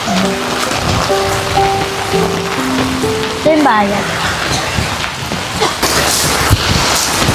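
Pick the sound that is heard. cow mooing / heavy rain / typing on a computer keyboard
heavy rain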